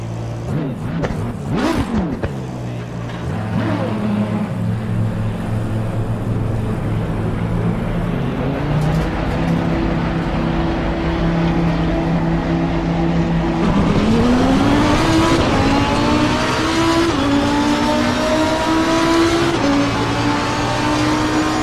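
A race car laps a track at night in the video game Assetto Corsa Competizione, its engine droning and rising in pitch through gear changes, loud and continuous with no voices.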